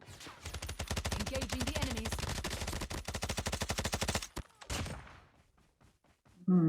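Rapid automatic rifle fire, an AK117, in the mobile shooter Call of Duty Mobile on the Meltdown map; a dense, loud burst of evenly spaced shots for about four seconds, then a couple of isolated cracks before quiet.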